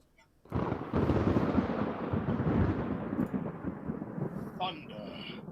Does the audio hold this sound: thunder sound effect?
yes